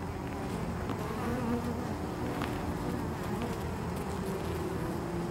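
A steady, dense buzzing of many honeybees close by, continuous throughout with no voices.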